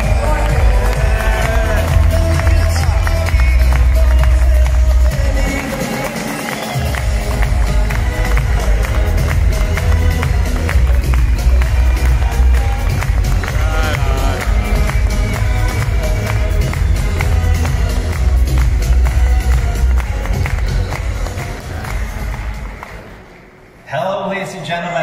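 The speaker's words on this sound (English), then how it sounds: "So please give a warm round of applause for Larry Fink, CEO and founder of NeoZenTech." Audience at a blockchain conference event breaks into sustained, loud applause, a dense wash of clapping and crowd noise that carries on for a long stretch before dipping near the end.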